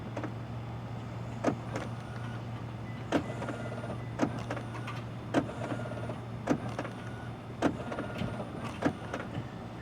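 Motorized flush door handles on a 2024 Chevrolet Equinox EV 2RS AWD deploying on unlock, heard as a string of short mechanical whirs and clicks at regular intervals over a steady low hum, close and moderately loud.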